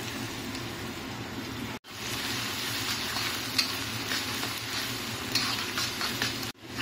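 About eight to ten dried red chillies fry in hot oil in a pan, giving a steady close sizzle with scraping stirs throughout, briefly broken by short pauses; no one speaks.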